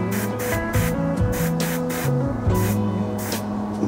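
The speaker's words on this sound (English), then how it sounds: "So I've just sprayed some white here." Spray paint hisses onto a wooden needlefish fishing lure in a series of short, loud, close bursts with brief gaps between them, alone without talking.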